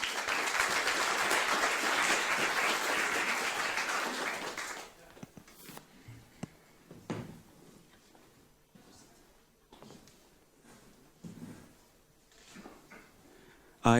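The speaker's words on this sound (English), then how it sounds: "Ogutu, applause for you." An audience at the Europe Open Podium in Amsterdam applauds a speaker, dense clapping for about five seconds that cuts off into quiet room noise with scattered knocks and rustles.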